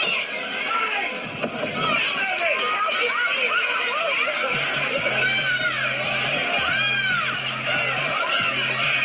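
A packed Black Friday shopping crowd roars with overlapping shouts, chatter and excited screams at close range, a dense continuous din with a low steady hum entering partway through.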